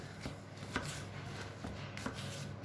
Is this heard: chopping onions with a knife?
yes